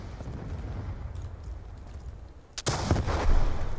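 Loud machine gun fire erupts abruptly in Black Ops 2, following a few seconds of low rumbling background, and continues as a dense, close burst.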